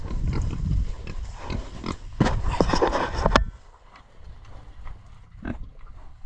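Pigs grunt and squeal close by amid shuffling and clattering, with a few sharp bangs in the middle.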